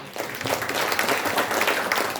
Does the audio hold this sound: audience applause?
yes